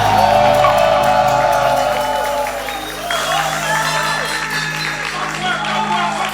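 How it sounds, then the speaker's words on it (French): A crowd at an outdoor Nostalgie Fun summer show applauds and cheers with whoops, a dense, loud, sustained roar while a voice speaks over it. "plus d'applaudissements pour lui"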